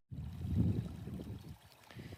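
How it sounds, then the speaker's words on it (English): Soft, gentle trickle and gurgle of a small stream flowing nearby, quiet and continuous. "There's a little stream of water. It is beautiful sounding"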